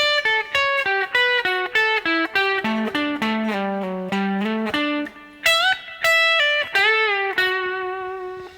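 An electric guitar plays a quick lead phrase of picked notes with pitch bends, bright and close, with short gaps between runs.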